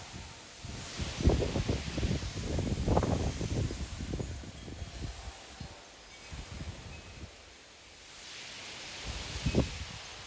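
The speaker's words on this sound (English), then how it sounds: "60 mile an hour wind gusts." Strong 50 to 60 mph wind gusts during an evening severe thunderstorm with light rain, buffeting and roaring against the microphone in surging bursts that rise, ease off, then swell again.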